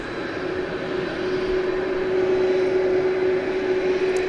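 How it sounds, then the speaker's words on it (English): A UPS Boeing 767 cargo jet departing DFW Airport at night gives a steady, loud engine roar with a sustained tonal whine, rising slightly in level as it passes, with no talk. "we've got a 767, flight 751 UPS"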